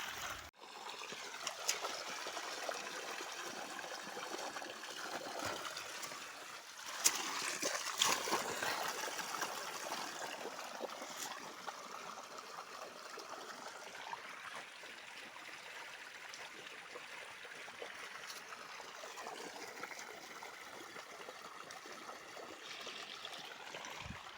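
Water gushing under pressure from a pipe pumping water out of a pond, a continuous close rushing and splashing flow that stays steady throughout with a few louder surges.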